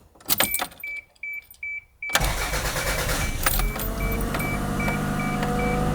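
Toyota Celica with a transmission governor fault, the engine cranking and catching after a few short clicks and beeps, then idling steadily and loudly up close, with a dashboard chime repeating through it.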